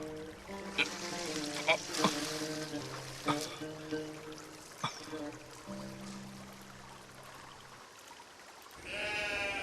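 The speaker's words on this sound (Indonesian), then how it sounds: "Pergi domba, pergi!" Sheep bleat repeatedly in a pastoral setting, with several wavering calls spread across the clip over a soft pouring, trickling background, ending in a brief louder noise.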